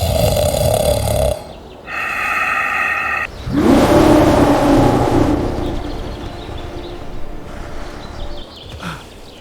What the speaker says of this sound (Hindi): भालू अभी भी खर्राटे ले रहा था।